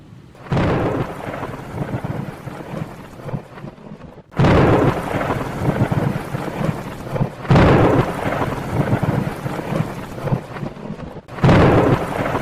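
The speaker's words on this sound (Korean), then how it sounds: "비가 옵니다. 아니 갑자기 비가 오고 그래?" Heavy rain pours steadily while loud rolling thunderclaps break in several times, a full thunderstorm with no voices over it.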